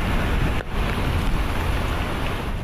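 Strong storm winds of about 145 km/h, with rain, in a typhoon over southern China's Guangdong province: a loud, constant roaring rush with a brief dip partway through.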